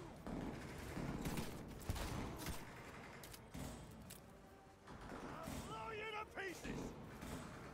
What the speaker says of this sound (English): I shoot the floor.